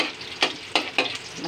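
Garlic sautés in a pan toward golden brown, a steady sizzle punctuated by three or four sharp stirring clicks of a utensil, with no one speaking.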